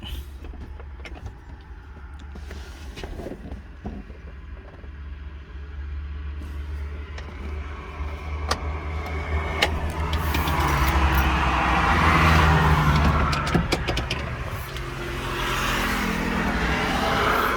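A Komatsu PC200-5 excavator's engine running: a steady low rumble with scattered clicks and knocks that swells louder midway and then settles, heard from nearby.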